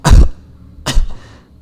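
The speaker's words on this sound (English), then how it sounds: "Cough, cough." Two separate coughs, a sharp loud burst at the start followed by a second cough just under a second later, with a short throat-clearing tail, alone with no other sound.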